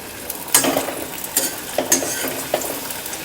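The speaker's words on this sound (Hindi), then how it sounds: "हल्के हाथ से दबाते हुए पूड़ी को तलेंगे" Puri frying in hot oil in an iron kadhai, a steady sizzle broken by several brief bubbling bursts and light scrapes as the bread is pressed and turned.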